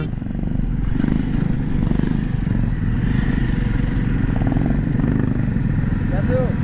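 A group of Jawa motorcycles rides along a road in Himachal Pradesh, giving a continuous, loud, close engine drone with steady rumble throughout.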